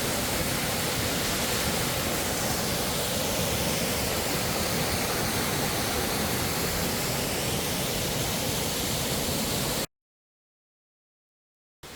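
Waterfall flowing beside a mountain hiking trail on Jirisan in autumn, a dense, loud, continuous rush of falling water close by that cuts out suddenly near the end.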